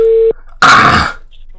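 A telephone line tone sounds as one short, steady beep at the start, then cuts off before a burst of rough, close noise.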